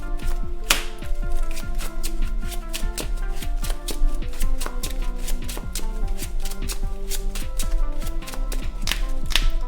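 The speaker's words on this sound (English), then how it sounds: "Maybe not shake the whole table when I shuffle." Trading cards shuffled on a table during a Pokémon card game, a rapid run of crisp clicks and riffles that keeps going steadily with occasional louder snaps and a low tabletop rumble underneath.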